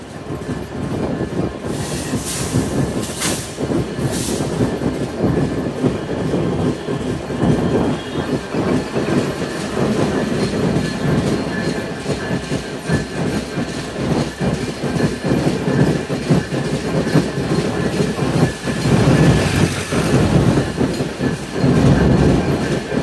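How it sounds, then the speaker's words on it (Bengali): Intercity Ruposhi Bangla Express running through Gandaria railway station on the Padma Bridge main line, a loud, steady close rumble with rhythmic clickety-clack of wheels on rail joints and brief high wheel squeals, no voices. "আমাদের ট্রেনটি এখন পদ্মা সেতুর মেন লাইন দিয়ে Gendaria railway station through pass করে যাচ্ছে"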